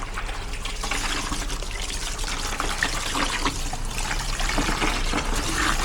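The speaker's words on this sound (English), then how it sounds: "Just mix it with the clean water." Water runs and splashes continuously while being mixed for washing a bike, a steady close trickling and pouring with no voices.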